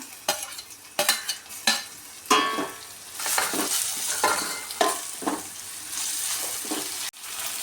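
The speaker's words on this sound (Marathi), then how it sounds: "मध्यम आकाराचे दोन टोमॅटो घेतले ते याच्यामध्ये परतून घेते" Two medium tomatoes sauté with already-softened onion in a pan for a Maharashtrian crab curry, heard as a close sizzle broken by repeated sharp scrapes and stirs of a spatula, then a sudden stop near the end.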